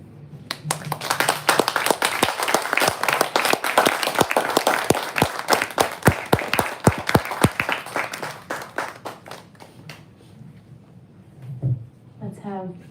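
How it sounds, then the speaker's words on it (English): An audience at a live poetry reading breaks into applause, a dense burst of clapping that builds and then thins out into scattered claps before fading, with murmuring underneath near the end. "Let's have one more round of applause for Jennifer"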